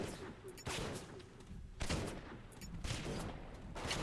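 Gunfire in the Bioshock video game directed at the player, heard as several bursts of shots spread across the clip with a steady background bed between them and no clear talking.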